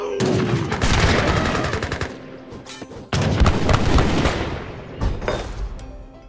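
Musket volleys crackle in the Age of Empires 4 video game: two loud, dense bursts of many overlapping shots separated by a short pause, then a smaller booming report near the end.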